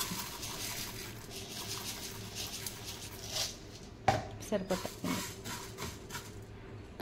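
A knife chops dried coconut into small pieces on a board, a burst of quick, sharp close knocks after a stretch of quieter kitchen background noise.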